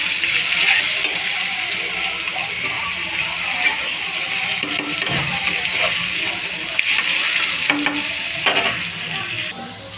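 Brinjal pieces fry in a pan over a low flame, giving a steady, close sizzle throughout, broken by occasional stirring scrapes and soft knocks.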